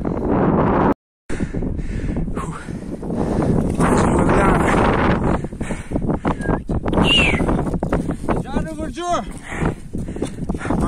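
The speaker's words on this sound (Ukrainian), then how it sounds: "Трохи вітер є." Strong mountain wind on the summit of Hoverla buffets the microphone in a loud, continuous rush, with people talking throughout and brief whistled or sung tones near the end.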